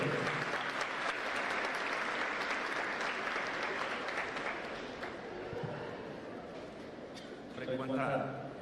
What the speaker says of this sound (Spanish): Fuertes los aplausos para recibir al doctor.